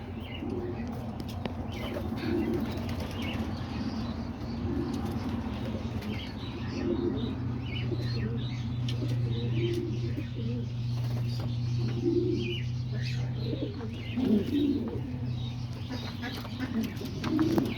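Homing pigeons in a loft keep up soft, continuous throaty cooing, with occasional wing flaps and faint chirps over a low background hum.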